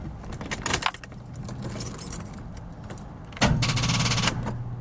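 Keys jangle and an older Chevy K10 or XJ Jeep Cherokee tries to crank on a weak battery, with a short burst of rapid clicking or cranking near the start and another louder stretch later.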